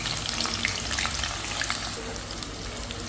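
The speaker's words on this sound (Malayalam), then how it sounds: "കുറേശ്ശെ സവാള ഇട്ടിട്ട് നമുക്ക് വറുത്ത് കോരാം." Sliced onions fry in ghee for a chicken biryani garnish, giving a soft, even, continuous crackling sizzle with no voices.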